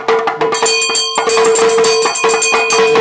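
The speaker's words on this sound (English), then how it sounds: "in her left hand, she has a bell, like" A small hand bell rings repeatedly with a bright, sustained metallic tone, clear and close, its shimmering strokes overlapping with only a brief pause.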